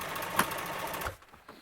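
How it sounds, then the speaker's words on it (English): Sewing machine top stitching vinyl on a 1951 Ford truck seat, a short steady mechanical whir that cuts off partway, followed by faint handling noise. "Now I'm probably going to go back and top stitch this on the vinyl side."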